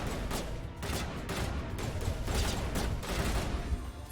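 Rapid bursts of video game gunfire from Mass Effect, a steady stream of loud shots in quick repeated volleys with no talk over them.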